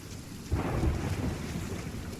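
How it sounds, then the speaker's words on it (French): A thunderstorm with rain at sea in the video game Sea of Thieves: a constant hiss of heavy rain, then a deep thunder rumble that swells in and lingers. "il est en pleine tempête"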